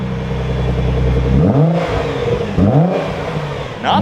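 A Nissan GT-R R35 with its exhaust valve open idles with a loud, steady rumble, then is revved hard twice, each blip rising sharply and falling back, followed by a third short rev at the end.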